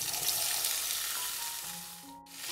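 Chopped tomatoes and garlic sauté in a pan, giving a soft, even sizzle that fades slightly near the end, with faint background tones and no talking.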